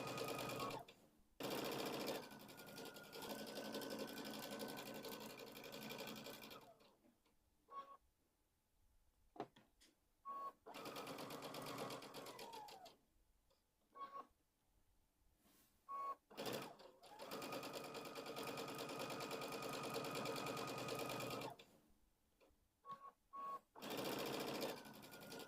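Sewing machine stitching a pumpkin-shaped pillow, running in several long whirring bursts with brief stops and clicks between them, close and steady, no talking.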